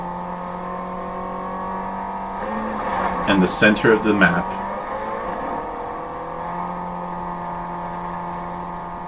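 A Fortnite car engine whirs and revs at close range under continuous talk, swelling into a louder burst of acceleration midway before settling back into a steady drive.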